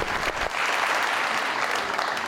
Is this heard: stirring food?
no